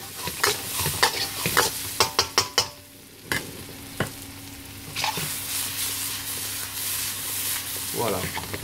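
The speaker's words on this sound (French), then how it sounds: "on va faire sauter un petit peu avec l'ail et l'oignon déjà" Garlic and onion sautéing in a pan for a soy-sauce chicken sauté, a run of quick clacking stirs over a steady hiss of frying, then a continuous sizzle, close and alone.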